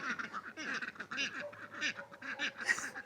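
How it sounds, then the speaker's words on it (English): A flock of ducks in a garden keeps up a continuous chorus of overlapping quacks and chatter, fairly close and moderately loud. "My ducks are so happy."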